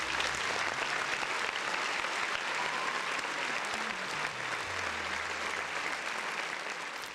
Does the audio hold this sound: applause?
yes